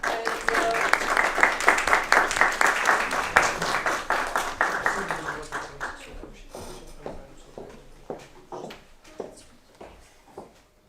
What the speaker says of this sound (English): So huge applause for Paya.